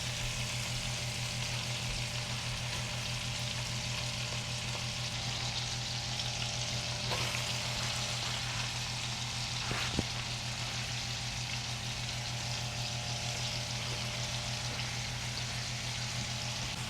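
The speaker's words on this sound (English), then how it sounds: "next we're gonna go ahead and add in our onions and celeries and saute that for a bit" Onions and celery sauteing in a pan for a Thanksgiving stuffing, a steady low sizzle running evenly throughout under a constant hum, with one faint clatter near the middle.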